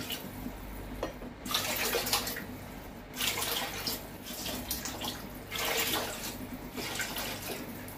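Water pours steadily into a pot of simmering yakhni stock for oxtail pulao, a continuous splashing rush that swells in a few surges without a break.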